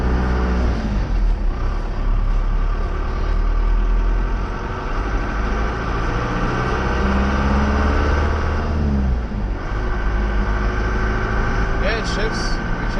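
Truck with an M5OD-R2 manual transmission drives along, its engine droning steadily with rises and dips as gears change, heard from inside the cab with talk over it throughout.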